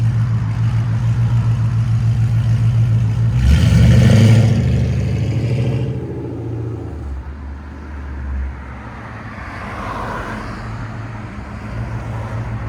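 Supercharged Jeep Grand Cherokee SRT with a 6.4L HEMI and straight-pipe exhaust: a deep, rumbling idle that surges into a loud, raspy rev lasting a couple of seconds, then settles back to a throaty idle with a smaller blip later.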